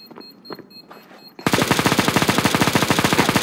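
Rapid automatic gunfire from the video game CS:GO bursts in after a second of quiet scattered sounds, a loud, fast, rhythmic volley of shots continuing to the end.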